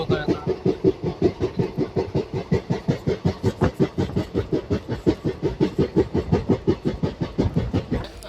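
The Koyna Express rolls into Karad railway station at dusk, a loud, close, rhythmic clatter of wheels over rail joints repeating evenly with an engine rumble underneath.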